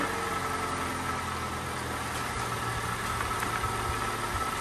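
A 4th-generation Mazda3 engine, newly fitted with a supercharger, runs steadily in a close, continuous idle hum with faint whine and no speech.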